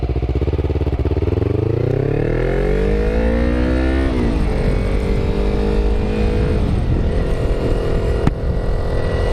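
A motorcycle pulls away and accelerates hard through the gears, its engine note climbing steadily and loudly before a shift, then continuing to rev close by with no talking.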